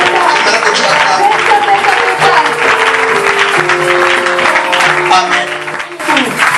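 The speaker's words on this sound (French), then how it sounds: "Je veux que tu acclames." A church congregation cheers and applauds together in a sustained, loud, dense wash of clapping and voices, with musical tones running underneath and a brief dip near the end.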